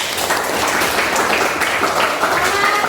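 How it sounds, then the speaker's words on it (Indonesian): Applause in a classroom, a loud, dense patter of hands clapping together that runs steadily from start to finish. "tepuk tangan buat kita semua"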